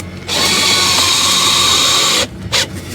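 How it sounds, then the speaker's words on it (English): A power drill drives screws into the plastic webbing of ICF blocks while a T wall is built, giving a loud, close, steady whine for about two seconds before stopping, followed by a brief short spin. "we're going to get the drill and we're going to screw it off"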